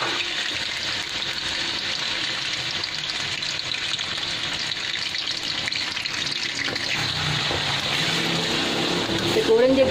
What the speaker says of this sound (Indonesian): Okey, minyak pun dah panas. Kita gorengkan tahu.